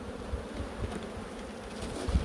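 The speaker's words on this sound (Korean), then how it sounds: "여기 보면 이렇게 벌이 많이 붙어 있죠?" Honeybees crowding on beehive frames give a dense, steady buzzing hum close by, with soft bumps and handling noises from the frames mixed in and no one speaking.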